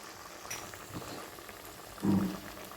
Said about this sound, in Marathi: तीन ते चार आपण वडे टाकू शकतो मंद आचेवर ठेवायचे